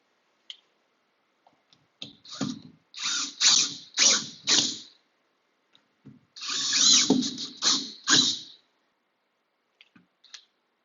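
Power drill driving screws into a replacement spring hinge on a door, several short whirring bursts in two clusters separated by quiet pauses, close and fairly loud, with small clicks between.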